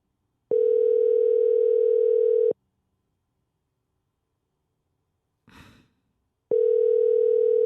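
An outgoing telephone call rings while waiting for an answer: two long, steady electronic ring tones separated by silence, loud and close, with a single audible sigh or breath in the pause between them.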